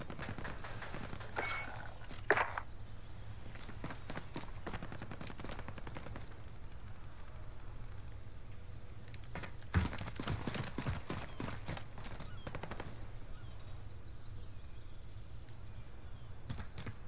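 Gunfire in Call of Duty: Modern Warfare, several bursts of rapid sharp shots in clusters at roughly two and ten seconds, with scattered single cracks between over a steady low background rumble.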